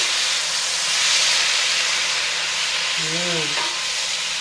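Onions and finely chopped tomatoes fry in a pan with a continuous loud sizzle and hiss while being stirred; a short tonal squeak is heard near the end.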